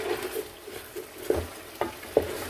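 A spoon stirs potato bhujiya frying in a pan, making a soft background sizzle with three distinct scraping knocks near the end.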